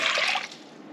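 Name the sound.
pouring six cups of water into a pot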